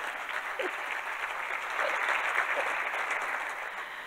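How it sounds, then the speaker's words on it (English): An audience in a lecture hall on a university campus claps for several seconds, a dense, steady patter of many hands that swells slightly midway and stays loud throughout. "Give yourselves another round of applause for just being here."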